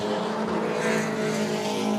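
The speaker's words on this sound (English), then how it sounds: "Queensland production cars are back on track for their second race of the weekend" Queensland production race cars at a 2021 QRDC meeting roaring steadily on track, a loud continuous engine drone with sustained harmonic whine and no pauses.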